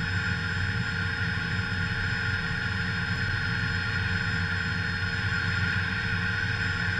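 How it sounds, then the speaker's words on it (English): Cirrus Vision Jet engine running during startup, a steady whining roar with a constant high tone, heard up close and alone for the whole stretch. "In the Vision Jet, starting the engine is kind of as simple as it seems."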